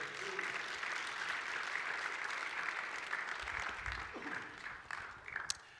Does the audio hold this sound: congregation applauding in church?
yes